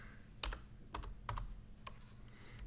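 Several key taps on a computer keyboard while entering a name into a catalog form, a handful of quiet, close clicks spaced irregularly apart with no speech.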